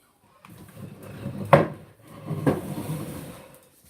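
Pots and pans clatter and scrape as someone rummages through a kitchen cupboard for a griddle. Two sharper knocks stand out in a short burst of nearby handling noise.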